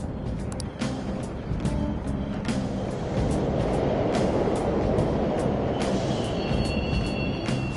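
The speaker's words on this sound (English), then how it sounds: "The trains are totally running!" Subway trains run through a video-game underground station: a dense, continuous rolling rumble with scattered metallic clicks and a thin tonal whine near the end, steady and fairly loud.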